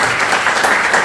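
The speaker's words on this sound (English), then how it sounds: "Can we have a round of applause, please?" A crowd at a summit panel applauds in a loud, even burst of clapping that fills the whole short moment.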